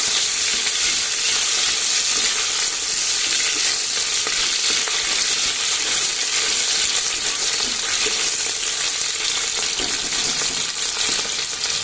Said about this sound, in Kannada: ಇದಕ್ಕೆ ಹಸಿಮೆಣಸಿನ್ಕಾಯಿ ಹಾಕೊಂಡು ಚೆನ್ನಾಗಿ ಮಿಕ್ಸ್ ಮಾಡ್ಕೋಬೇಕು